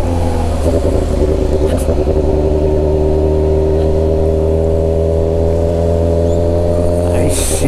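Honda Hornet motorcycle engine pulling hard in sixth gear, a loud steady drone with stacked harmonics held for several seconds, with a voice talking over it.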